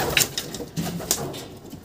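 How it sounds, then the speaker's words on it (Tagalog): A racing pigeon's soft, low coos repeat a few times at close range, with faint rustling and scattered bird chirps in the background. "Itong si Leleng, yung baliling nating ibon."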